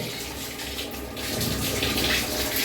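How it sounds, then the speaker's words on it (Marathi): A household water tank fills and overflows, its water gushing and splashing in a loud, steady rush that swells slightly toward the end, with no voices. "पूर्ण टाकी भरलेली आहे याचा आवाज येतो"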